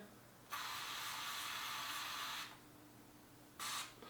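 A spray bottle of sponge cleanser hisses in a long burst of about two seconds, then pauses before a second short spritz, close and clear.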